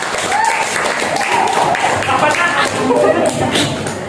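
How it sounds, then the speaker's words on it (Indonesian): A school classroom of students claps for group 8B, a loose, uneven patter of hands close by, mixed with shuffling, thumps and overlapping chatter. "tepuk tangan dulu buat 8B"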